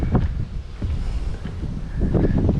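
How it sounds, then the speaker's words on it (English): Outdoors on a hiking trail near a river, wind gusts buffet the microphone in uneven rumbling bursts, with faint rustling underneath and a stronger gust near the end. "it's a little windy today."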